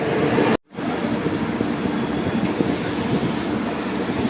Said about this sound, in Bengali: এই যে বন্দে ভারত আসছে, পুরী হাওড়া বন্দে ভারত।